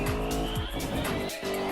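A Chevrolet Corvette C7 Z06 in Forza Horizon roars loudly on a freeway, its engine note sliding up and down while tires squeal and skid, close and continuous with no talking.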